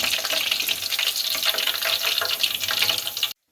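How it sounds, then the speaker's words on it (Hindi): Chicken fingers fry in hot oil in a frying pan, a dense, crackling sizzle with fluttering pops that holds steady and close before cutting off abruptly. "एक फ्राई पैन में मैंने ऑयल गर्म होने के लिए रख दिया। अब इन्हें फ्राई कर लें।"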